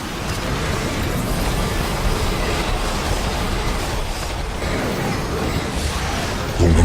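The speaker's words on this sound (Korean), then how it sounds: "아래쪽 선로에서 또 급행 열차가 들어옵니다." An express train rumbles in on the lower track in a StarCraft II co-op mission, a loud, dense, continuous roar with game noise mixed in and a sharp burst at the end.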